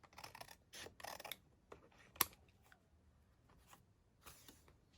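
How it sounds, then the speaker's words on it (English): Scissors cutting card for journaling cards, faint close snips and rasping strokes in uneven bursts with a sharp click partway through, quiet with no talk. "I'm just using my scissors"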